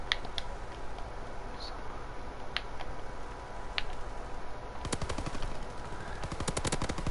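Rapid game gunfire from a mountain gun in a first-person shooter: bursts of sharp, closely spaced shots, sparse at first and then dense volleys near the end, loud over a steady background hum.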